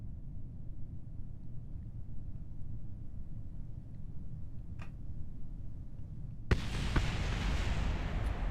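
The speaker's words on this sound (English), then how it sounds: "There's an explosion out somewhere." Distant explosion in Kerbal Space Program: a low steady rumble, one faint thump, then a sudden muffled blast that swells into a sustained roar near the end, with no talking.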